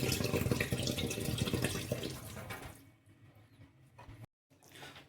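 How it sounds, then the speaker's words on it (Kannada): Basmati rice washed in water under a running tap, with steady splashing and rinsing for the first few seconds before it fades to quieter trickles and a brief silence. "ಮೊದಲನೇದಾಗಿ ಬಾಸ್ಮತಿ ಅಕ್ಕಿಯನ್ನು 2-3 ಸಲ ಕ್ಲೀನ್ ಮಾಡಿಕೊಳ್ಳಿ."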